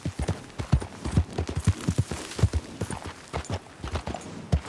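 Horses pulling a wagon in Red Dead Redemption 2 clip-clop at a steady walking pace, hooves close and clear with a brisk rhythm and no talk.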